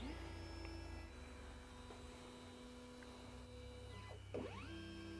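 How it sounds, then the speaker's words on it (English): Laser engraver homing its axes and then engraving a straight line, a steady motor whine with stepper tones that sweep down and back up near the end, continuous and fairly quiet over a low hum, no talk. "And now I shall do this, home the machine, and draw the same line again."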